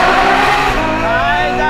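Ferrari F12 with Novitec N-Largo upgrades accelerating in first gear, a loud, close engine note whose harmonic tones sweep steadily upward in one short, continuous pull.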